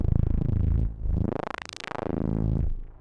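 Low notes from a Polivoks synthesizer pass through a bandpass filter, a loud, buzzy growl whose resonant sweep rises and falls in slow waves, pulsing continuously and heard alone.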